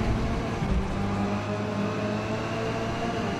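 Peugeot race car engine in a racing video game, a steady loud whining drone with sustained tonal hum throughout, no talk.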